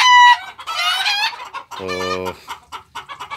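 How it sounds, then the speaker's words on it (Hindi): Hens and roosters on a poultry farm housing about 450 birds, clucking and crowing loudly and close, with a rising crow mid-clip amid continuous flock noise; a voice says a single word. "इसमें तकरीबन 450 तक मुर्गियाँ हैं"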